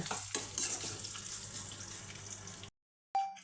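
Onion fries in hot oil with tempering seeds, making a continuous crackling sizzle that stops abruptly, then resumes briefly after a short gap of silence.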